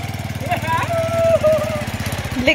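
A motorcycle engine putters in a quick, rhythmic chug just after finally starting, running close and steady while people talk over it.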